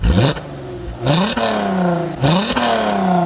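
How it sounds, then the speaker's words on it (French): A Volkswagen Golf 5 R32 engine with stock exhaust revs up hard three times, rising to a loud scream, then dropping back, heard up close from outside. "pour un échappement d'origine ça crie bien comme il faut"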